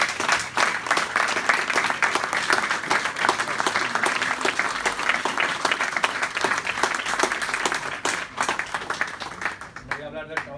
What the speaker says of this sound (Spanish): Y quiero, por favor, que demos un aplauso a Juan Avilés